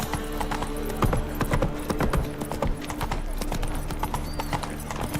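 A horse gallops in The Witcher 3, its hoofbeats a fast, steady clip-clop held close and clear over the game's background ambience.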